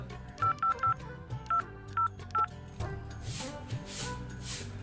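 Telephone keypad dialing: a series of short, evenly spaced touch-tone beeps in quick bursts, followed by a soft rasping rumble with faint swelling hiss.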